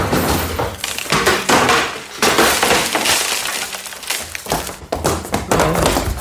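Door being forced open in a French radio drama scene, rendered as a burst of loud crashing, splintering and glassy clattering impacts, with repeated heavy thuds and breaking noises across several seconds and no talking.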